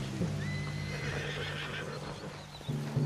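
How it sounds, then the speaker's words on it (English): A spooked horse whinnies loudly in Red Dead Redemption 2, a long wavering neigh over a steady game drone, with a shorter snort near the end and hoof clip-clop underneath. "What's got this horse spook"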